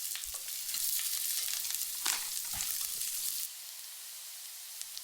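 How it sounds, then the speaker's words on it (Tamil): Chopped onions fry in a pan and get stirred, a close, steady sizzle broken by a few scraping strokes of the spoon, then the sizzle carries on more quietly alone. "வெங்காயத்தை நல்லா சாஃப்டாக ஆகிற வரைக்கும் வணக்கி விட்டுருங்க."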